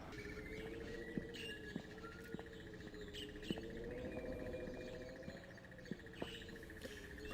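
Birds chirp in the PC adventure game Gabriel Knight 2: The Beast Within, sharp short tweets repeating every second or so over a steady hum and faint ambient wash.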